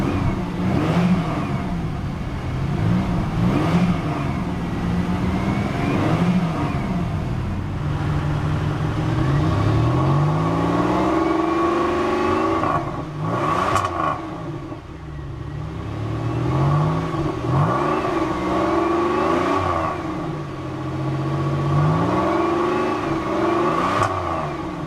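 Close, loud engine and exhaust of a 2002 Pontiac Grand Prix GT, revved again and again in park, with repeated rising and falling sweeps over a steady idle and no talking.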